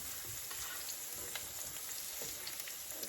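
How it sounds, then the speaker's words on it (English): Tri-tip sizzles and fries steadily in a hot grill pan, a constant dense crackle with small pops scattered throughout, close and continuous with no talking. "I will come back once we get most of these covered in the pan and getting some grill marks on it."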